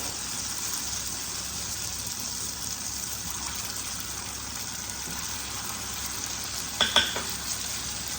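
Chhena malai kofta balls fry in hot oil with a steady, close hiss and crackle throughout, broken near the end by a few sharp clinks of a utensil.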